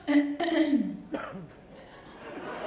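A brief, throaty cough bursts out close by, followed by a short vocal sound, then quiet.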